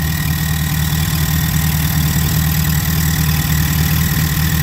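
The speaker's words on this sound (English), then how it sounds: "engine runs excellent" Car engine idling smoothly and steadily, a loud close low rumble with an even hum and no interruptions.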